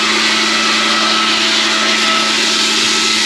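A concrete cutting saw runs steadily at a job site, a loud, dense grinding whine with a constant pitch. It holds throughout with no pauses and no talk.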